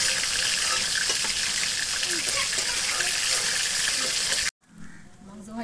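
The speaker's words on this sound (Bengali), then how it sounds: "মাংস লাল করে ভেজে তুলে নিচ্ছি" Chunks of chicken, rubbed with salt and turmeric, deep-frying in hot oil for homemade chicken biryani, a loud dense sizzle close up that runs steadily and then cuts off abruptly near the end.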